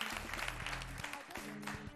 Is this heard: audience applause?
yes